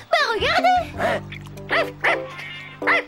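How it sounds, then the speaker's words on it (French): A dog in the French-dubbed animated series Code Lyoko barks and yips in short, bright bursts, mixed with voices talking over it. "c'est mon chien"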